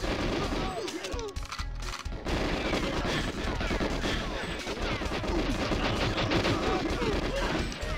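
Rapid bursts of gunfire from the GoldenEye video game on the Frigate level, loud and dense, with overlapping shots and a brief lull early on before steady firing resumes for the rest of the stretch.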